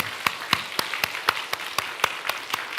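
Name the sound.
church congregation applause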